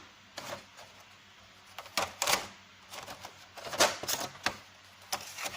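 Colored pencils clatter and rattle inside a 150-pencil box in short, irregular bursts of wooden knocks and scrapes, close by, with quiet gaps between handling.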